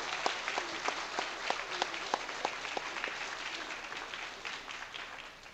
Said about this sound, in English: let us all give our presenters one more round of warm applause for their hard work